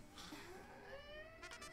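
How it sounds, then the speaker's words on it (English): A cat meows outside, somewhat distant and muffled, in a couple of drawn-out calls followed by a quicker rising cry. "There's a cat outside."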